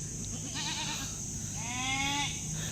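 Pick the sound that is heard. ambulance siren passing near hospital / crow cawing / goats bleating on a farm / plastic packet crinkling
goats bleating on a farm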